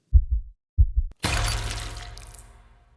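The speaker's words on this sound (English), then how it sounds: "Just the sound of my heart pounding in my ears" Heartbeat pounding sound effect: two deep, muffled double thumps in a slow rhythm, followed by a sudden loud crash that rings and slowly decays.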